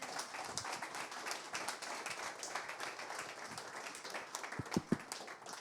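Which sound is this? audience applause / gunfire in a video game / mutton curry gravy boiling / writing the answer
audience applause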